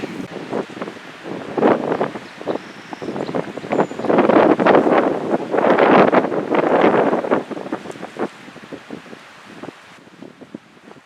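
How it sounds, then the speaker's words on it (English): Southeast wind partly sheltered by trees along the Opeongo Line, loud gusty buffeting on the microphone that swells and fades in waves over about ten seconds, with rustling in the background and no talking. "so the wind is kind of sheltered. And it's still blowing pretty good from the southeast."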